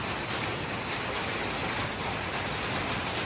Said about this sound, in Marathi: शेवटचा पाऊस म्हणायचं की पहिला पाऊस.